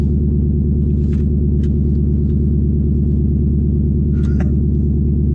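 Twin-turbo Mustang engine idling just after a cold start, a steady, loud, deep rumbling drone close by with a heavy pulsing low end, and faint background voices at moments.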